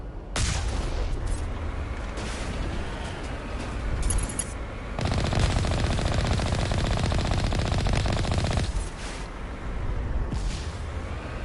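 Rapid automatic gunfire from the video game Mass Effect Legendary Edition, loud dense bursts with booming impacts, a sustained heavy volley in the middle, alongside wind-like game ambience; no talking.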